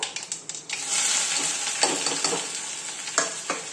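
Onion and curry leaves fry in hot oil with a bright, continuous sizzle. A few clinks and stirring scrapes come at the start and end, close by and with no talking.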